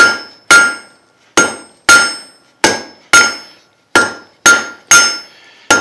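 Hammer blows on hot metal being drawn out on an anvil ring out sharply, about ten loud evenly spaced strikes with bright metallic ringing decaying between each, no talk.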